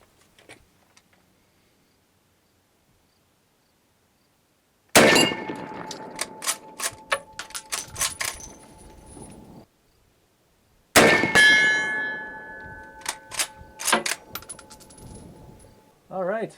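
Rifle shots at a 300-yard outdoor range, each loud crack followed by a ringing clang from steel gongs set at 200 and 300 yards. Two separate bursts of impacts are heard, with quiet gaps between them.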